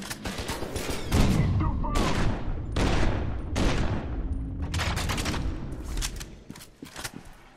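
Gunfire in F.E.A.R. 2: Project Origin: repeated heavy shots and bursts from close by, arriving in clusters roughly every second, while a player talks over the shooting.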